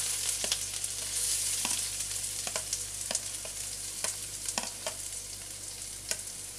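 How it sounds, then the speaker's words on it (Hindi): Finely chopped onions and mustard seeds fry in hot oil for poha, giving a steady close sizzle with scattered sharp crackles and pops throughout. "अब हम इसके अंदर डालेंगे बारीक कटे हुए प्याज"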